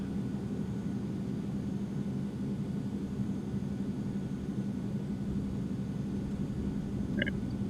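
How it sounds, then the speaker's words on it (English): Light aircraft engine in the X-Plane 11 flight simulator drones in a steady, fairly quiet hum during a touch and go, with a brief electronic beep near the end and no voices. "Alright, flaps up to takeoff and full power. Let the engine spool up."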